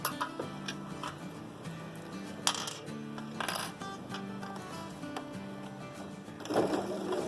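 A sewing machine runs a simple holding stitch through fabric for a phone wallet, its motor whirring in a steady mechanical patter with a few sharper clicks and bursts, fairly close and alone without talk.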